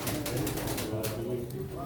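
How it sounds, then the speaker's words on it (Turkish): Pigeons coo through a steady crowd murmur at a live pigeon auction in Çorum, Turkey, soft repeated calls blending into the dense background. "Beyler bu kuş oyunlu."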